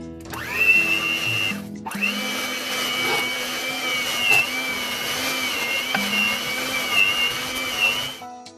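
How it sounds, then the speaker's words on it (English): A hand blender whirs steadily at close range, its motor pitch briefly dropping and restarting, then grinding on with small shifts as it churns thick homemade butterscotch ice cream. "Now we will blend it into a smooth paste with a mixie or a hand blender."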